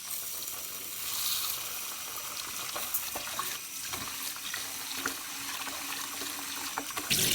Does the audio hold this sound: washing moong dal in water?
yes